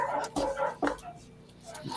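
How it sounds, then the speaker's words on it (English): Dogs bark downstairs, a few short muffled barks heard at a distance indoors. "dogs are going nuts"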